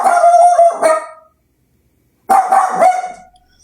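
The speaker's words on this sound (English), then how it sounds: "Another dog barked." A dog barks in two separate bursts of loud, close, harmonic barking with a yelping quality, a brief silence between them and no talking.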